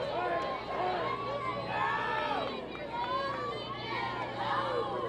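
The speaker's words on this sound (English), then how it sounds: "Here on our crowd mic, the Bryan College Lion baseball team really getting rowdy." A college baseball team cheers rowdily from the stands at a college softball tournament game, with continuous shouting and crowd chatter close to the mic.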